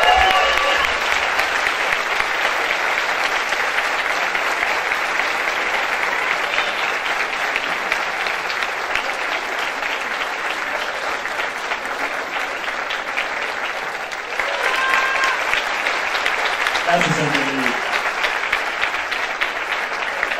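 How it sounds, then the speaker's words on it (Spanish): A theater audience applauds steadily at a performance of La Jaula de las Locas, a dense, sustained wash of clapping from a large crowd that continues for about twenty seconds with brief swells and a few voices rising over it. "Un fuerte aplauso para él, por favor."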